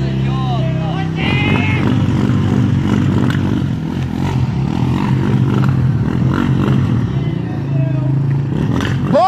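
A young rider's motorcycle roars loudly past near a supermarket, its engine droning and revving steadily throughout, with rising whine at the end, over background voices.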